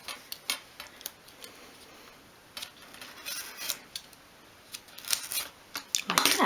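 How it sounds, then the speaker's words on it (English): Small pieces of wood for an under-stairs cupboard in a doll's house are cut against the grain along a rule, giving faint, scattered crisp snips and clicks that come in irregular bursts and grow busier toward the end. "I'm cutting against the grain here, so it's going to be a little bit more difficult than that last cut"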